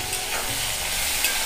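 Kakrol frying in a pan as tomato and green chillies are added, a steady close hissing sizzle with a faint tap near the end, brief and without talking.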